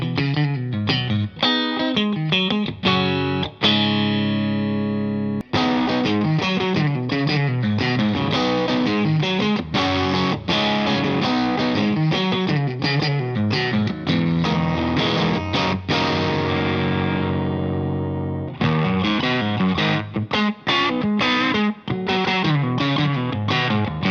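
Electric guitar played through a Tone King Imperial Mark II tube amp, loud and close with driven, distorted chords and single-note phrases, strummed in a busy, continuous rhythm.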